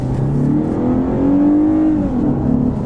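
A 2021 Lexus RC 350 F Sport sports car engine, with augmented sound shut off, revs up and settles, a loud, smooth, rising and falling growl close by with no talking.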